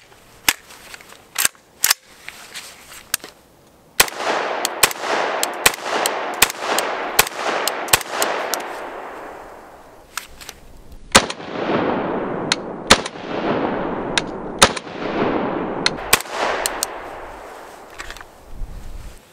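Unsuppressed 7.62 rifle shots with 220-grain Armscor 300 Blackout ammunition crack out loud and close, a long irregular string of sharp reports, each trailing a ringing echo.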